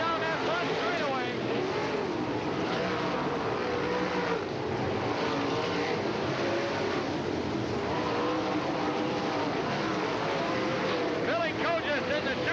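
1987 World of Outlaws sprint cars roaring down the front straightaway at Hales Corners, a continuous loud engine drone with shifting whines and pitch sweeps as cars pass, under an excited race commentator.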